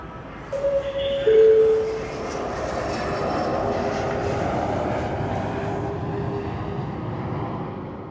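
Aircraft engines roaring at Bangkok Suvarnabhumi Airport in the morning, a loud sustained broadband rumble with a brief whining tone near the start, continuing steadily throughout without speech.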